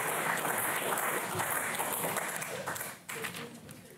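Audience clapping at a sound poetry reading, a dense patter of many hands, fairly loud and steady, then easing off in the last second with a murmur of voices underneath.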